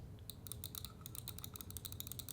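A gaming mouse's buttons clicked in a rapid, uneven burst of sharp, close clicks for a couple of seconds, with no voices.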